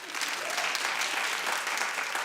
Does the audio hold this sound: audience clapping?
yes